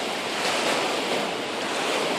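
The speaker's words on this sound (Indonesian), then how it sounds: "Ombaknya tenang banget ya" Calm sea waves washing onto Wediombo beach in Gunung Kidul, a natural reef-lined shore; a steady, broad wash of surf with light wind noise, continuous and fairly close, with no voices.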